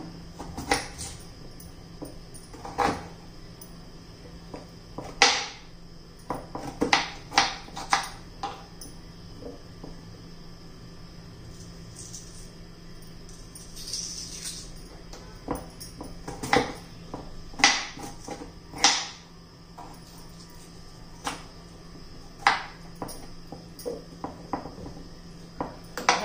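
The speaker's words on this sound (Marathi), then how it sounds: "आता बटाट्याच्या फोडी करून घेऊ आपण।" Irregular sharp knife chops through potatoes strike a cutting board, coming in uneven bursts with brief pauses, close and fairly crisp, with no talking.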